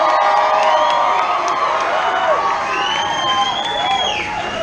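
Concert crowd at a show in Liverpool cheering, whooping and clapping loudly and continuously, with voices shouting over the roar.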